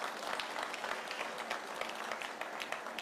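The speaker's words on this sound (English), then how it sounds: "It's only the sales teams that is clapping." Applause from a sales team at a DLF Privana North property event in Sector 76-77, a dense, steady patter of many hands clapping throughout, fairly close with no talk over it.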